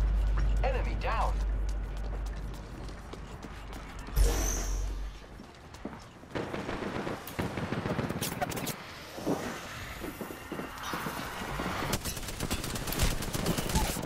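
Gunfire in a shooter video game, with bursts of shots and mechanical clatter mixed through a busy game soundscape, while players talk over it.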